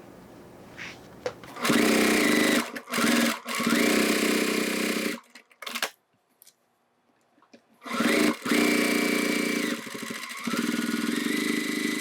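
Sewing machine basting vinyl bag pieces together with a ring added for a beginner crossbody bag, running in loud steady bursts of stitching separated by short pauses and a longer quiet stretch in the middle.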